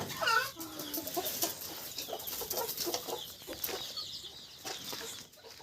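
Gavran native chickens cluck and call from bamboo perches on a farm, with a sharp squawk near the start and steady nearby clucking and rustling throughout.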